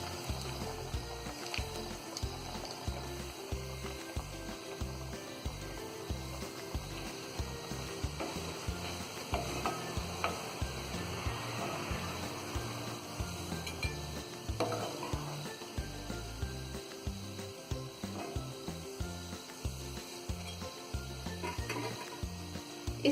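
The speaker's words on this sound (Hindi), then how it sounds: "इस तरह से आप सारे कबाबों को फ्राई कर लें।" Egg-bound chicken shami kebabs fry in foaming oil, giving a steady, close sizzle and bubbling that runs unbroken throughout with no one talking.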